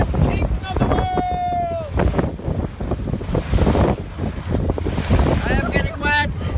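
Wind buffeting and waves splashing around a boat sailing toward Tory Island, loud and continuous, with excited voices shouting and cheering over the rush of air and water.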